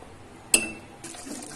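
Water poured into a pan of chicken gravy while cooking, a sharp clink then a brief splash and soft liquid trickle, close and quiet.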